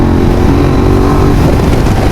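A loud, close engine revs and pulls steadily, its droning note rising slightly as the small motor accelerates.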